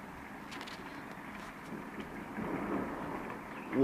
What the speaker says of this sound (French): on est en train de se prendre un orage de fou là.